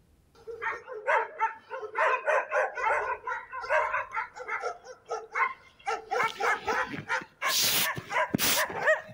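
Stray dogs in the Novosibirsk region bark in a loud, rapid string of overlapping woofs and yips, close and continuous, with sharper bursts toward the end.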